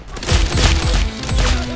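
Rapid bursts of gunfire from the Roblox shooter game Arsenal crack loudly and close, several quick shots in a tight rhythm with no talking over them.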